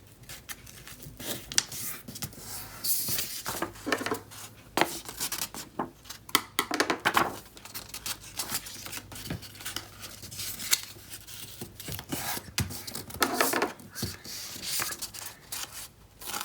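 Scissors snip and rustle through construction paper to cut out a square, a series of irregular close crisp cuts and paper handling sounds with no talking.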